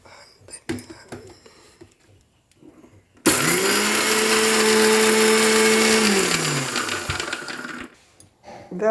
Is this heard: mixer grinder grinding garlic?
yes